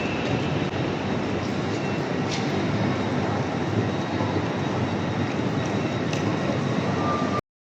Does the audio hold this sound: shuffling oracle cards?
no